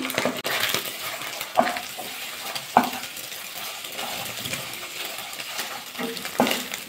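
Beaten egg being fried with red amaranth leaves in a pan: soft sizzling under a few metallic clinks and scrapes of a spatula, fairly quiet and close.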